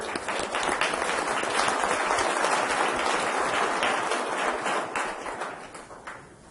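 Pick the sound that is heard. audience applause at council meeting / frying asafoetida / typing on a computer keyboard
audience applause at council meeting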